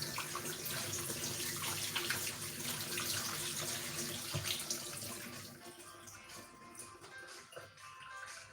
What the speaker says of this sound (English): I'm gonna wash my hands now.